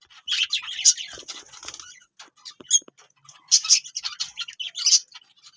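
A mischievous pet parrot in a home parrot colony gives bursts of sharp chirps and squawks, close and fairly loud, scattered irregularly with brief scuffling between calls.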